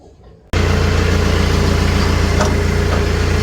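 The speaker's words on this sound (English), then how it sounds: "I'm going to actually start the tractor, adjust the angle of the bucket to be flatter" A tractor engine cranks and catches abruptly, then settles into a loud, steady, close-up idle with a constant low rumble.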